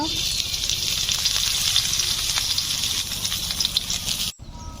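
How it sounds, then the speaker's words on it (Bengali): Onions and dried red chillies fry in hot oil in a wok, giving a steady, close, dense sizzle that holds evenly and then cuts off abruptly just before the end. "পেঁয়াজ আর শুকো লঙ্কা লাল করে ভাজা হয়ে গেছে"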